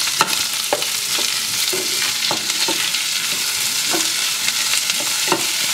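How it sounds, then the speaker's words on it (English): An onion fries in a pan for a red lentil rice dish, giving a close, steady sizzle broken by repeated sharp scrapes and taps from stirring. "Now I'm going to fry this onion until light brown."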